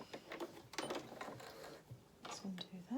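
Sewing machine reverse stitching across the top of a waistcoat pocket, giving a few short bursts of mechanical whirring and clatter with brief pauses between them, close and fairly quiet.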